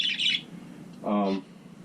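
Pet finches in cages at home give a couple of short chirps, a high thin note first and then a lower, harmonic-rich call about a second later, fairly close and brief.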